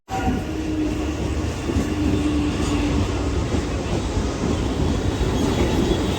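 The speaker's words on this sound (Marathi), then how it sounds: "फायनली गाईज आपण ट्रेनमध्ये बसलो आहे आणि आता जातो इथून डहाणूला" A train at Churchgate station in Mumbai, heard from inside a carriage as a steady, loud rumble of rolling stock and wheels, continuous throughout with faint rail squeal.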